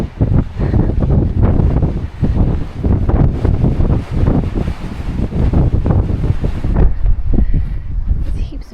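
Strong wind buffets the microphone in loud, gusty roaring bursts that rise and fall irregularly, easing slightly toward the end.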